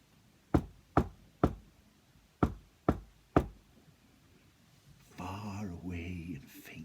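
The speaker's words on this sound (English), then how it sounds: "sometimes in the walls there can be heard a knocking." Six sharp, separate knocks on a wall, fairly close and spaced about half a second apart, used as a ghost story sound effect, followed by a voice and a murky rumbling bed.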